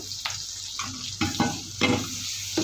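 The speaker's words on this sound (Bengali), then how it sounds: "আরও এক মিনিট মতন ভাজা করে নেব" Spices with ginger-garlic paste sizzle and crackle in a hot pan, with repeated bursts of scraping as they are stirred, fairly close and without any talking.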